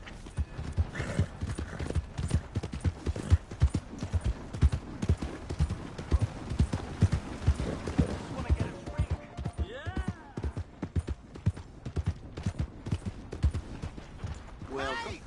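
Steady, rhythmic clip-clop of horse hooves in Red Dead Redemption 2, continuous and fairly close, with a brief horse whinny and faint background game sounds.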